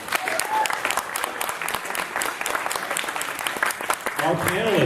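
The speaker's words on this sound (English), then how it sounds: "give a round of applause for Dr. David Hollander" An audience applauds a panelist at a climate change panel discussion, a dense burst of clapping throughout with a voice starting to speak at the end.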